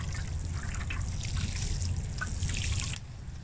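Water trickles and splashes steadily onto the soil on top of a newly planted tree in heavy clay, a continuous close pouring with light gurgling that stops abruptly near the end.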